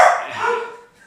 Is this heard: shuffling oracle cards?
no